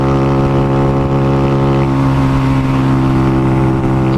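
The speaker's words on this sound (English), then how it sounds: "Oh, the Grom loves this cooler weather. It just revs out." A geared Honda Grom motorcycle revs out on a dirt road on Wadamala Island in cool weather, a loud, close, sustained engine whine that stays steady and shifts pitch slightly midway, with no voices.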